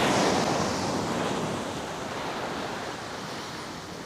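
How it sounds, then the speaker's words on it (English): Calm, flat sea washing gently against the shore, a steady soft wash of surf with light wind across the microphone, continuous and fairly close, no voices. "Absolutely flat, calm sea."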